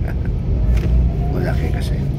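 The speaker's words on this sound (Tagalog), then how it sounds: "yung bus nag-ingay" A city bus engine rumbles amid steady Ho Chi Minh City street traffic, a loud, continuous low drone that fills the whole stretch, with voices murmuring faintly underneath.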